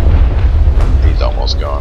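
Ship cannon fire in a line battle in the naval video game Naval Action, a continuous loud rumbling barrage of booms with people talking over it.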